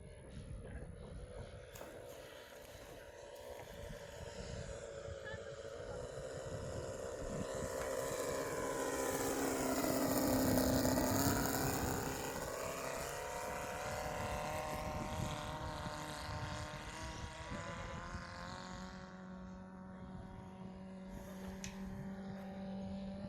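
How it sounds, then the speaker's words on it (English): A large RC airplane with a 12-foot wingspan, around 40 pounds, makes a low flyby: its engine drones in from a distance, swells to a loud peak overhead, then fades away, with talk over it. "Do a nice low scale flyby here."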